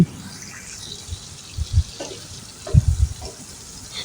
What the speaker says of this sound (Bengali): আমি এখানে কিছু পানি অ্যাড করে দিয়েছি এতে করে মুরগির মাংস আর টমেটোগুলো অনেক ভালো করে সেদ্ধ হয়ে যাবে